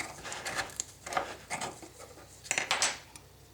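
A metal can of Varathane wood stain being stirred, scraping and knocking of the stir stick against the can in irregular bursts, close and fairly loud, no voices.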